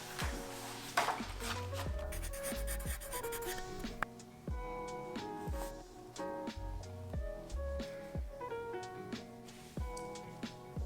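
A pen scratches across paper in a journal, with steady, close strokes and small taps in an irregular rhythm, quiet and heard alone with no talk.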